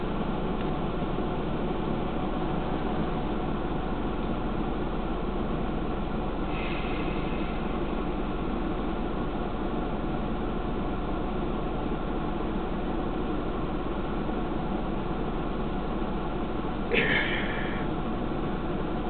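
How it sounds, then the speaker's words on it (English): A small engine runs steadily in the background throughout, a constant low drone with a couple of brief higher-pitched sounds on top. "the little engine doing its thing"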